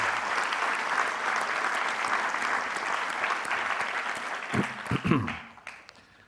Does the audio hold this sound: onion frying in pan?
no